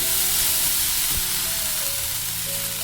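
Water splashed onto a hot greased iron tawa hisses in a broad, loud sizzle as the griddle is wiped, with a brief low thump near the middle and a steady steamy roar throughout.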